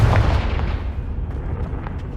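A Confringo spell explosion in the video game Hogwarts Legacy, heard as a loud booming blast at the start that rolls into a long, rumbling low decay.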